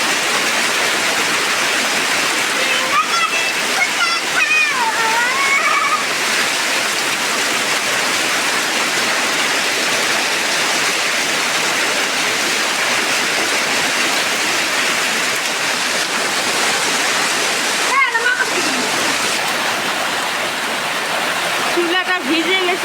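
Heavy rain pours outdoors onto an open cooking area with a wet stove, a dense steady hiss filling everything, while a voice speaks intermittently over it.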